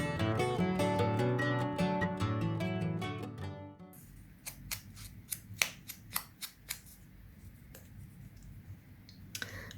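Scissors snip through paper while cutting out handmade faux postage stamps for a winter junk journal, a series of sharp close clicks spaced irregularly after a few seconds of music.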